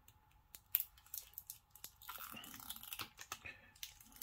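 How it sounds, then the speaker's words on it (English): Protective film peeled from the back of a liquid-damaged MacBook A1466 keyboard gives close, crackly snaps and tearing crunches in irregular bursts, with no voices. "So we need to remove this film from the back of the keyboard."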